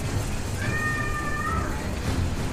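A cat gives a single clear, drawn-out meow, close and fairly loud, over a steady background hum, with no speech.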